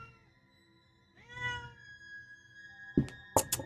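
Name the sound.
cat meowing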